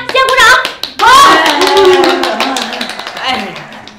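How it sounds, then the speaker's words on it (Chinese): Classroom applause: a burst of hand clapping from a class of schoolchildren, mixed with loud, excited children's voices cheering and calling out, strongest at the start and again after a brief pause. "大家先鼓掌"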